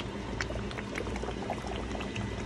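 Dry beans tumble into a pot of boiling oxtail kare kare, a steady close pour over the bubbling simmer with no voices.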